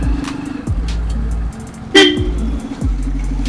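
A modified Roots horn fitted to a Splendor motorcycle honks in several sustained, loud blasts, some stepping in pitch, close by amid busy traffic and engine noise on a rough road.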